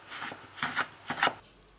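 Hands working butter pieces into flour in a bowl for a quick brioche dough, three soft rubbing, crumbling bursts in a slow rhythm, close and fairly quiet with no talking.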